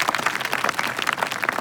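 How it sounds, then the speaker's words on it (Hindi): A group of children and adults breaks into dense, lively clapping for the children and their teacher, steady and fairly close, with sharp individual claps standing out. "तो जोरदार तालियां बजाओ बच्चों के लिए"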